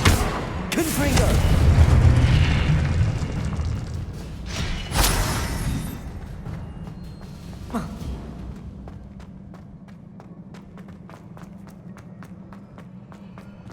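Casting Confringo, a fire spell in Hogwarts Legacy, sets off deep booming blasts, one right at the start and another around the middle, among running footsteps and softer game effects that fade into a quiet, ticking tail.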